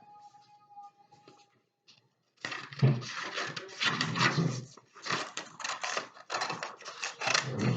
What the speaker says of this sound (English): So I'm going to now cut these into strips.